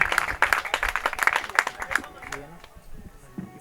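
Audience applause at an intimate poetry gathering, a brisk burst of clapping from a small crowd that fades out after a couple of seconds, with faint voices and shuffling at the end.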